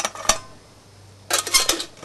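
Metal pots and a fry pan from a Trangia camping stove clatter in two bursts, a sharp clank and then a longer jangling rattle of nested cookware, with a quiet pause between.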